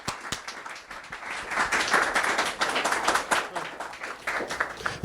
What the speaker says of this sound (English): I hope you will join me in a round of applause for the panel that came together to have the conversation